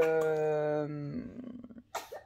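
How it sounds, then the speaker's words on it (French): A harmonic vocal tone fades into a short burst of rough, raspy coughing, followed by a sharper cough or two close by. "j'ai mon loulou qui tousse"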